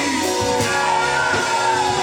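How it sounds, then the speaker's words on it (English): A church congregation screams and shouts together on a preacher's call for victory, a loud sustained mass of yelling voices filling the space. "Now scream. Scream for your victory."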